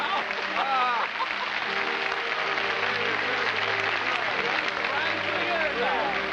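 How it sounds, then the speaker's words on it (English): A television studio audience applauds, a dense and even wash of clapping that holds for several seconds, with voices faintly mixed in. "You wonder where that applause is coming from?"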